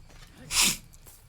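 A single close sneeze, a sharp burst of breath rising and falling within a fraction of a second over quiet background noise.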